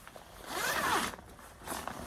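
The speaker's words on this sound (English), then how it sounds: "the leg zips wide open so you can get in and out" A zipper on the leg of black rain over-pants is drawn open in one long rasping pull, close and clear, followed by a second shorter zip and faint rustling, with no talk.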